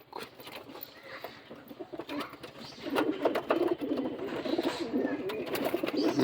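Madras pigeons coo repeatedly at close range, the soft throaty calls growing louder and denser toward the end over a low background hum.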